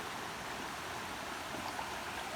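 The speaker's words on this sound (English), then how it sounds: "right next to this beautiful river" A river flowing right beside a stealth campsite on the Long Trail in Vermont, a steady, close rush of moving water that holds a constant broadband hiss with no pauses and no voices.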